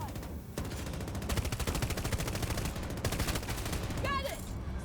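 Rapid machine gun fire from a helicopter gunner's seat in Battlefield 2042, loud continuous bursts with dense chattering rounds and short gaps, plus a brief rising electronic tone near the end.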